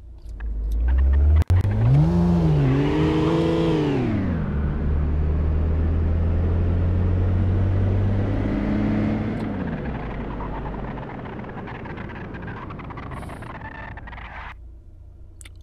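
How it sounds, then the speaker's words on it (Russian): An Acura NSX in the City Car Driving video game launches hard, its engine climbing through rising revs and gear changes, then fading to a long rumbling slowdown under braking that tails off into near quiet. "Пытаемся разогнаться до сотни. И также мы пытаемся оттормозиться."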